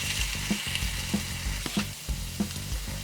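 Butter dosa sizzling in a hot pan, a loud continuous frying hiss with rhythmic scraping and stirring strokes recurring every half second or so.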